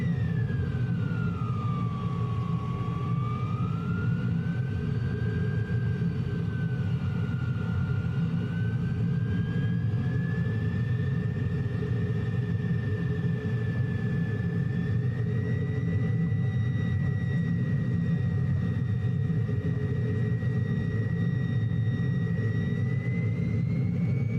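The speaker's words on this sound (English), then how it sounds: "Oh, we just surged the engine now." Jet engine surging, a continuous loud roar with a whining tone that dips, then climbs and wavers in pitch over about twenty-four seconds, steady and without talk.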